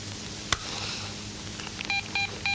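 Telephone dialing in a film scene: a sharp click, then a series of short, evenly spaced keypad tones near the end, heard alone and fairly close.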